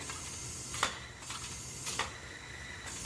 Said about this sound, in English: Still have some crankcase leakage.